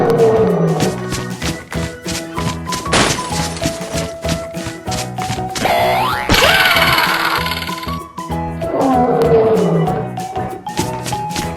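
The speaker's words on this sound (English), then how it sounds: "Lion." A cartoon lion gives loud roars set against bouncy children's music, with bright sound effects and crashes between them.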